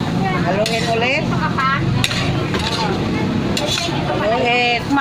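Food is stirred in a frying pan, with sizzling and the scrape of a utensil continuing steadily throughout, while a voice speaks over the cooking.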